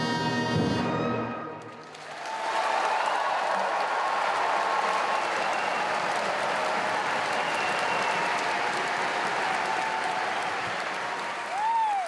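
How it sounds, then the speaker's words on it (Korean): A prolonged standing ovation for a Korean military traditional band concert in Hamina, Finland, in which sustained applause from a large audience swells in after the music ends and keeps going steadily. "앙코르와 기립박수가 오래도록 계속됩니다."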